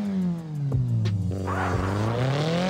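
Drifting cars in the mobile racing game CarX Drift Racing 3: a steady, close engine drone slides up and down in pitch while a hissing tire squeal rises over it in the second half.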